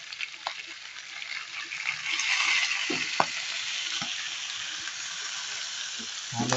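Humba pork sizzling in a pan just after soy sauce goes in, a steady frying hiss with the scrape and clack of a spoon stirring every so often, close and moderately quiet, with no talking.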